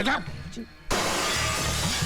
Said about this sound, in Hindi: फिर से मेरा कांच तोड़ दिया